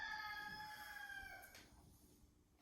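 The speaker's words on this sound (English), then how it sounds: "I don't know if you guys could hear the roosters outside." A rooster crows outside during a yoga session, a faint, distant drawn-out call fading over about a second and a half into a quiet room.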